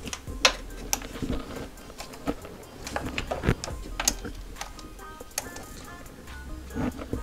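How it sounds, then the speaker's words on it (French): A small ratchet wrench clicks in short, irregular bursts during car repair work, the sharp metallic ticks fairly close, with quiet pauses and faint rustling between them. "prends plutôt un petit cliquet"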